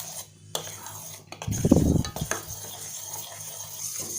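A spoon stirring gelatin into sugar syrup in a pan over a low flame, with a burst of clinking and scraping against the pan in the middle, quieter before and after, with no speech.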